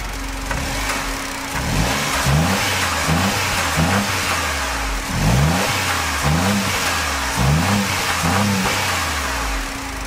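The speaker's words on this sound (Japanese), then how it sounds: "こんな震えるんやなエンジンって。" Honda S660 kei sports car engine idling close by with a steady drone, revved in a series of short, rhythmic blips that rise and fall, with no talking over it.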